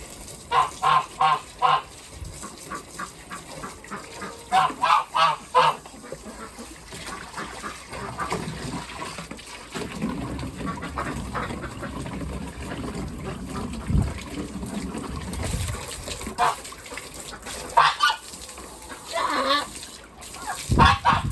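Loud bursts of honking, quacking ducks and geese come in clusters, with a noisy rumbling stretch in between and more calls near the end.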